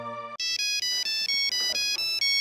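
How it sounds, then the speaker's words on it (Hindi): A bright, electronic phone ringtone chimes in quick repeated pulses, loud and close, following a brief musical tone at the start. "फिर किसी ऑफिस वाले का फोन आ गया"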